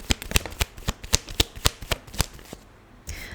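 Tarot cards being shuffled and drawn, a quick run of crisp riffling snaps in an uneven rhythm, close and clear, ending with a soft slide as the cards settle, with no talking.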